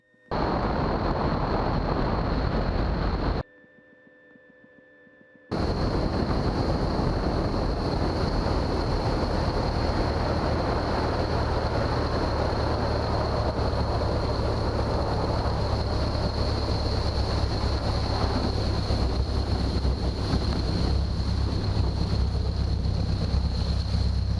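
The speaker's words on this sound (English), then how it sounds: "And I'm down and off the step right in front of my house." A Lake Buccaneer amphibious seaplane touching down on a small lake, a loud steady engine roar with heavy wind buffeting that briefly cuts out, then continues as the hull settles on the water.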